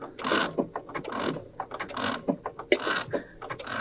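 A Brother sewing machine stitches binding onto fabric, a close, rhythmic mechanical clatter of needle strokes in short, uneven bursts, with no voice in the moment.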